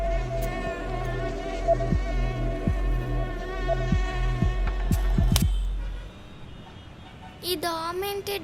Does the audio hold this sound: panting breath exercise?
no